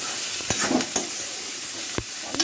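Potatoes and onions sizzle steadily in a pan, close and loud, with a few sharp scrapes of a spatula stirring through them.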